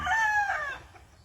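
A farm gamecock at a large Philippine farm in Claveria, Misamis Oriental, lets out one loud, close crow that holds steady and then fades, heard on its own.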